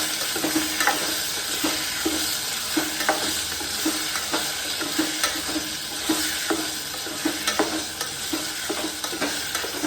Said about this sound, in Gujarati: વઘાર થઈ ગયો.